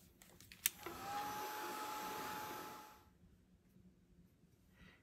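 A hair dryer blows a steady broadband rush over a wet watercolor painting of a frosty bubble, starting after a sharp click and running loud for about two seconds before cutting off into quiet room tone.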